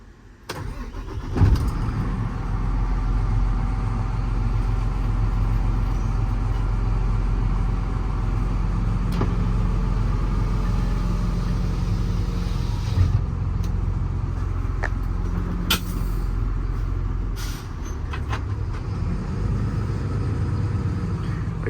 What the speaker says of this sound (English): I'm going to hop in the truck and take it for a spin now